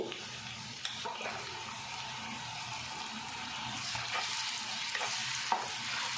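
Goat tripe (boti) fries with gongura in a pan, a steady close sizzle with intermittent stirring scrapes running throughout, no voices.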